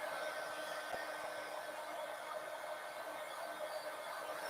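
A hair dryer blows steadily on a damp coloring page, giving a continuous, even airy roar with a faint motor whine that holds at a constant level throughout, close and loud.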